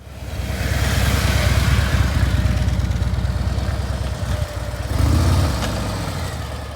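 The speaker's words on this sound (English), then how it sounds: "It's just more refined, quieter version of that classic Harley tone." A 2025 Harley-Davidson Street Glide engine runs with a steady low, throbbing V-twin rumble, close and fairly loud, swelling briefly with a rev midway before settling back, no talk.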